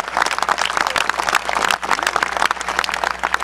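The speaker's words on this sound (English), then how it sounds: "Let's give all of these leaders of New Jersey a great round of applause." Applause at a political rally in New Jersey: a crowd claps loudly and busily, with many overlapping claps and a brief dip near the middle.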